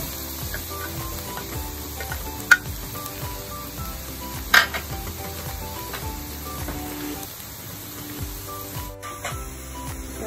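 Minced garlic sizzling in melted butter in a pan, a continuous crackling fry with a couple of sharp clinks of a utensil, no voices.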